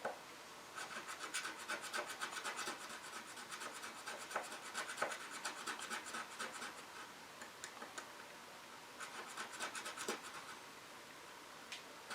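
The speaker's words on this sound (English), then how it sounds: "It's going to be hard to sand the middle." Someone sands a piece of resin or plastic for a 1969 Baldwin Motion Corvette Phase III GT taillight, producing quiet, rapid scratchy rubbing strokes in uneven bursts, close by and with no talking.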